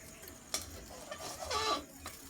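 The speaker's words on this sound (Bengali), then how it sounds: "দেখো ডিম ভাজা গেছে, এখন আমাকে পাল্টে করতে হবে।" An egg frying in a pan over a gas flame, with a spatula scraping and turning it in a few short bursts above a soft, low sizzle.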